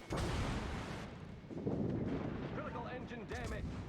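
Naval guns boom and shells crash in World of Warships, with a Pan Asian destroyer Fushun under fire from an enemy Farragut destroyer at range; dense rumbling blasts and roaring impacts fill the scene, with a voice talking over parts.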